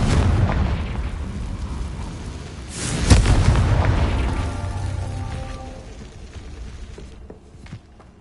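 The Confringo fire spell erupts in the Hogwarts Legacy video game on PS5 as a loud, rumbling explosive roar, with a sharp burst near the middle that slowly fades into crackling.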